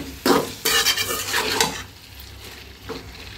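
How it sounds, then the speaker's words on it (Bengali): Pots and a rice cooker pot used for cooking beef being washed in a kitchen sink, with scrubbing, splashing water and clanks of metal cookware in irregular bursts up close, fading to quieter rubbing toward the end. "এই যে রাইস কুকার যে এখন মাংস রান্না করলাম সেটা, এগুলো ধুই"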